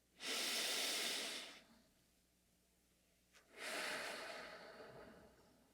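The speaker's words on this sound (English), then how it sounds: "take few long and deep breaths" Two long, deep breaths during a relaxation exercise, each a slow, close, airy rush of air with a quiet pause between them.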